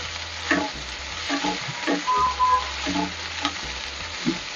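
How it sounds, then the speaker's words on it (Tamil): Spinach greens fry in a hot pan, giving a soft, continuous sizzle with repeated clinks and scrapes from a stirring utensil, close by and without talk. "கீரை போட்டு இப்படி வதங்கட்டும்."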